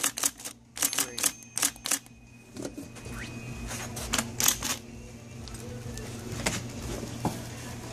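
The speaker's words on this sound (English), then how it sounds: "As you can see, it types and sounds great." A green IBM Correcting Selectric III typewriter types in sharp, uneven bursts of crisp keystrikes, with pauses between and a faint motor hum under them.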